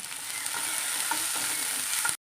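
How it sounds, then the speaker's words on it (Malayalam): Ginger, garlic, sliced green chillies and curry leaves sautéing in a pan, a steady close sizzle with faint scraping stirs, continuous until it cuts off abruptly. "രണ്ട് പച്ചമുളക് അരിഞ്ഞ് ചേർത്ത് കൊടുക്കാം വേപ്പില ചേർത്ത് കൊടുക്കാം നമുക്കൊന്ന് വഴറ്റിയെടുക്കാം"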